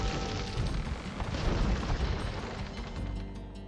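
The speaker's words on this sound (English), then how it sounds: "That's a lot of cannons coming for us here." Heavy booming cannon fire in the video game Age of Empires II, deep repeated blasts rumbling over one another in a dense, loud barrage.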